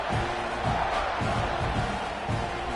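Football stadium crowd roaring at a kickoff, a broad, steady wall of cheering with rhythmic swells, heard from a distance and continuing without a break.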